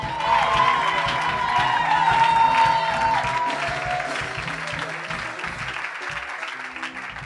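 A large audience applauds and cheers loudly, with whoops and shouts rising early on, then the clapping gradually tapers off.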